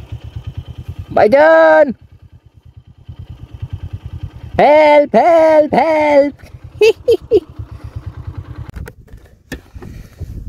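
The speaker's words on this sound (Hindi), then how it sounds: "तो बाइक कीचड़ में बुरी तरह फंस चुकी है" A motorcycle stuck deep in thick mud on a coastal track near Sapat Beach, Balochistan, idles with a rapid low putter while people shout loudly over it in several bursts.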